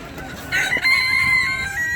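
A rooster crows in a long drawn-out call, close and loud, with faint background clucking from hens at a poultry market in Płońsk.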